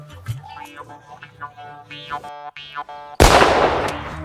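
Tones and chatter give way to a sudden sharp bang as a Diwali firecracker explodes on a road, followed by a loud crackling burst that slowly fades.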